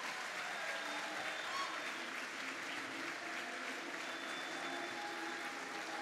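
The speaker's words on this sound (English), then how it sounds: "Let's hear a round of applause for a patriot, a hero, and a proud American, Dr. Peter Navarro." Audience applause fills a political gathering at Mar-a-Lago, a steady, dense wash of clapping that holds at an even, moderate level from start to finish with a faint crowd murmur beneath.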